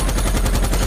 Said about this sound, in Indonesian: pihak Taliban yang mengetahui kedatangan militer Amerika pun seketika langsung menyerang dari berbagai penjuru hingga menyebabkan baku tembak tak dapat terhindarkan lagi